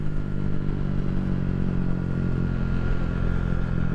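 A KTM 390 Duke single-cylinder engine drones steadily while the motorcycle is ridden at a constant speed. The low engine tone is mixed with road and wind rumble, and no one speaks.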